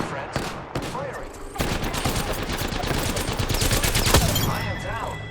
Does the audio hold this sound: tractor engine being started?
no